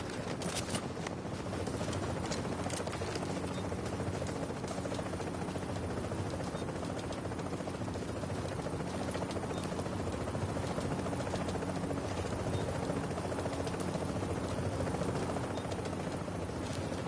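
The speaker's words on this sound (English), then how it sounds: "Chopper is inbound." Helicopter arriving in the video game The Division, a steady loud rotor drone with a continuous thrumming buzz holding throughout without pause.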